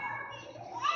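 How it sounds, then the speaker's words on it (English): Children play and chatter at a zoo, a steady babble of young voices close by with a rising shout at the end. "Kids playing."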